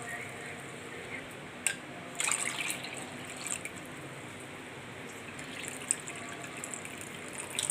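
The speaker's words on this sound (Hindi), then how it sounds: "जी नाज़रीन, अब मैं इसमें पानी डाल रही हूँ।" Water is poured into a cooking pot while making spicy pakoda curry, a soft, steady stream running for several seconds, faint and close, with a few louder splashes.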